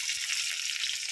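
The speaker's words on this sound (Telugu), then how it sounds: "ఇప్పుడు పోపులు వేసేద్దాం." Tempering spices hit hot oil for a dried fish and eggplant curry, producing a close, steady bright sizzle that holds evenly throughout.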